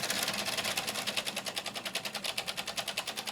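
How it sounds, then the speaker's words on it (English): A small Mamod model steam engine runs fast, its flywheel and piston making quick, even mechanical pulses with a faint hiss, heard close up and fairly quietly without talk. "Just a close-up of the flywheel here, and the piston, you can see really how it's racing along."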